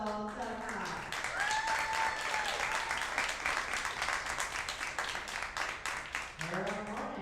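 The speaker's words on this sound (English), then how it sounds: "please give a round of applause for Kristina the Crystal Tkach" An audience at a WPBA pool tournament final applauds a player's introduction, a steady, moderately loud wash of clapping lasting several seconds between an announcer's spoken lines.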